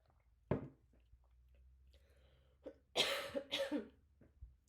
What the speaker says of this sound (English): my whole room is filled up with smoke and I'm coughing